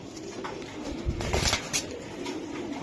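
Racing pigeons coo at close range, a few soft throaty calls with faint shuffling and wing movement, no talk.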